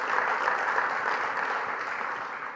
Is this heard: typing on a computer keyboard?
no